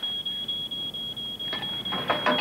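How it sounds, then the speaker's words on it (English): A security alarm shrills on and off in rapid, steady pulses, loud and close, and a few scuffing knocks join in near the end. "Will you kill the alarm, huh? Kill the alarm!"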